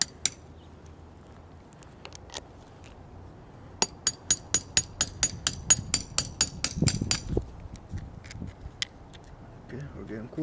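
A rusty hammer taps on the door of a Squarebody Chevy truck, first a few scattered knocks, then a quick run of about a dozen sharp, evenly spaced taps, with quiet talk in the background.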